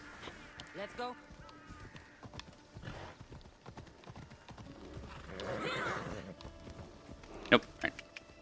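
A horse in the Assassin's Creed Odyssey video game clip-clops along at a run, quiet rhythmic hoofbeats with a whinny, under a person's talk.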